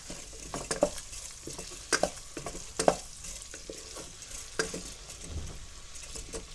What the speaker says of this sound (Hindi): प्याज डाल दिए इसमें अभी डालेंगे अदरक लहसुन। इसको थोड़ा सा भुनाई करेंगे।